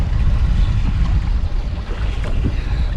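Strong wind buffets a boat on a lake during fishing, a loud, steady roaring rush with gusty swells and no talk.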